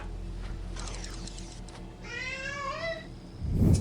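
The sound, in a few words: cat meowing in video game Sheltered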